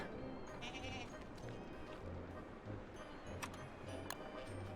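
Goats bleating in the Don't Starve Together game, several short bleats over a busy layer of game music and ambience, with a couple of brief clicks.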